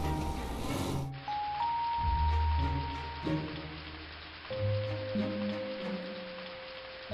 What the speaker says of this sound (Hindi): हल्की सी हो रही बारिश